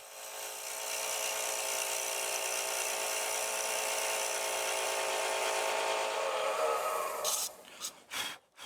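An Easy Wood Tools turning tool cutting a beaded rim bowl on a lathe, a steady close hiss and whir of the cut lasting several seconds before stopping with a few brief scrapes and knocks.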